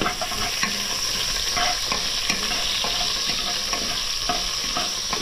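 Ginger sizzles and fries in a hot pan for tinola, with a steady crackling hiss and repeated scraping stir strokes, close and continuous with no talking.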